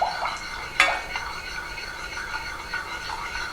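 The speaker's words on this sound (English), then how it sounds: "Again, still scraping the sides of the pan." A spoon stirs white sauce in a pan, making soft scraping and swishing strokes against the sides with one sharper clink of utensil on metal, close and fairly quiet.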